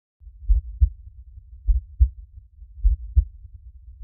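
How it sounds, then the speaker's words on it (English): Heartbeat of a vibrating virtual pet in Resonite: soft, low, muffled thumps in paired beats, repeating at a steady, calm rhythm, close and alone. "Like, you can hear the actual heart rate."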